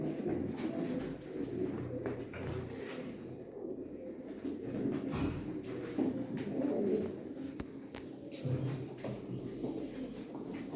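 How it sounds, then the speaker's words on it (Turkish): Pigeons coo softly at a live pigeon auction, with low repeated coos and faint shuffling of birds being handled indoors. "Bu kuşa da kanat vermiş arkadaşlar"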